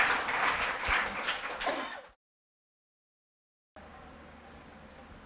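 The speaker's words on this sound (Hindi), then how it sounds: "अरे ताली बजा दो इसके लिए" Audience applause at a live mono-acting drama stage show, a dense burst of clapping for about two seconds that cuts off abruptly, followed by silence and then a low steady room hum.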